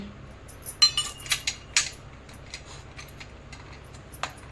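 Onion is crushed in a mortar for a village-style ridge gourd thecha, giving a series of sharp knocks and clinks, quick at first and then more spaced, fairly faint against a quiet background.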